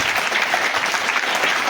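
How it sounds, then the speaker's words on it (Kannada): Children at a village assembly held at a higher primary school clap together in a steady, dense burst of applause that stays close and even for the whole moment, with no speech over it. "ಚಪ್ಪಾಳೆ ಹೊಡಿರಿ ಫಸ್ಟ್ ಅವರಿಗೆ."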